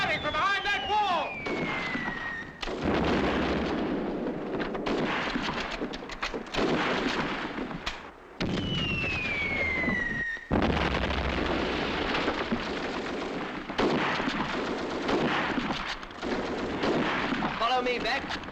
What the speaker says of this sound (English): Firing from behind that wall!